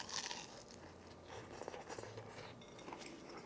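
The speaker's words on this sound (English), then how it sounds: "But first I'm gonna have a bite without any sauce," Biting and chewing a crispy Indonesian loempia egg roll filled with chicken and vegetables, quiet close crunches and crackly wrapper crinkles coming in uneven bursts, with no talking.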